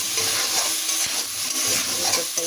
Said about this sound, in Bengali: এরপর এটাকে অনেকক্ষণ ধরে কষাইতে হবে